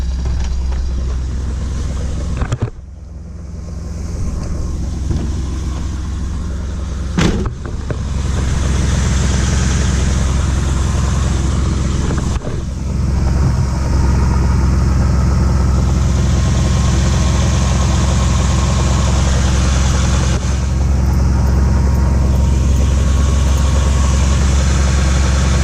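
Close, steady low rumble of a Nissan R31 with a manual conversion idling, holding an even drone throughout, with a few brief dips and clunks.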